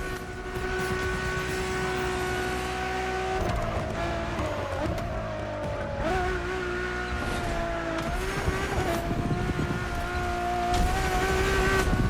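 A Ferrari Enzo's engine in The Crew Motorfest racing game, a loud, sustained engine tone whose pitch rises and drops sharply with several gear changes, plus brief tire noise.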